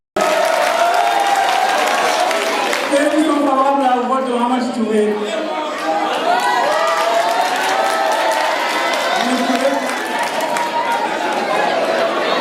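A crowd at a student association election in Kédougou claps and cheers steadily throughout, with voices chattering over the applause in a large room.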